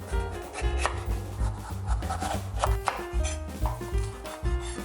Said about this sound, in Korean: 빨간 파프리카 노란 파프리카 썰어 준비하고